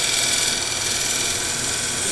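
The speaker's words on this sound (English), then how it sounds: "I go ahead and finish it with my little finishing ground gouge, taking a light cut" A finishing gouge takes a light cut on a wood-turning lathe, giving a steady, close hiss of fine shaving with no pauses.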